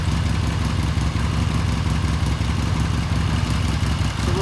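A 1979 Triumph Bonneville Special 750 motorcycle idles close by, its steady, loud, throbbing beat and light mechanical clatter running evenly from start to finish with no one speaking.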